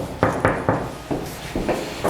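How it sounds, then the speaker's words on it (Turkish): Knuckles rap on a toilet door in a luxury Istanbul mansion, about six firm knocks in an uneven rhythm, close and clear against a quiet room. "Lütfen girmeden önce kapıyı çalınız"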